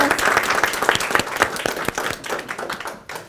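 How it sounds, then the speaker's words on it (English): An audience bursts into loud, dense applause that holds steady, then thins out and fades near the end. "A big round of applause"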